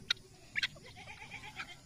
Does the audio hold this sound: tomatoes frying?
no